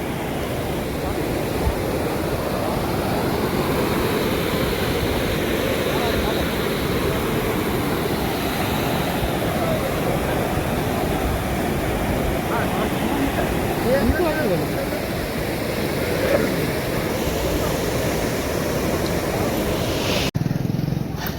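The overflowing Rojki river at Mota Khutavda floods across a bridge, a loud, steady broadband roar of rushing water that fills the whole stretch without letup, cutting off abruptly at the very end.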